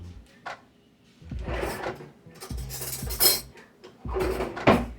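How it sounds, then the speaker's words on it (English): In a kitchen during crab salad preparation, a drawer slides and spoons and cutlery clink and rattle as another spoon is fetched, in a few short bursts separated by brief quiet gaps. "Let me get another spoon."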